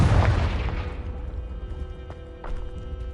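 A Confringo blasting spell detonates in Hogwarts Legacy, a loud deep boom at the start that rolls off into a long fading rumble, with a couple of faint clicks and game ambience afterward.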